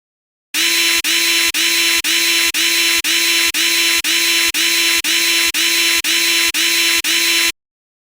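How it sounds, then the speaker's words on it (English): A power screwdriver backs out casing screws on a NovaStar NovaPro UHD Jr controller. It gives thirteen loud, evenly spaced whirring bursts of about half a second each, separated by short gaps, close up and alone. "There are 14 screws we need to be removed."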